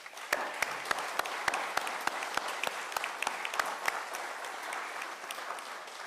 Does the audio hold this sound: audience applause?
yes